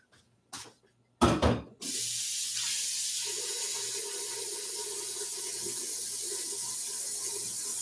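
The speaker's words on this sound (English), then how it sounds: "So I'm going to add a little bit more water" After a few knocks and clatters at a kitchen sink, a tap is turned on and water runs in a steady, close, continuous stream with no talking.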